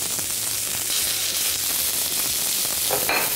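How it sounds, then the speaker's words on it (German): Beef fillet sears in hot clarified butter in a pan, giving a loud, steady, close crackling sizzle with occasional spits and pops and no voices over it. "Jetzt ist das Butterschmalz heiß und ich kann jetzt das Filet drin anbraten."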